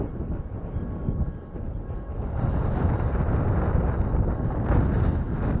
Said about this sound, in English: I'm guessing it's probably about 30 kilometres an hour, the wind.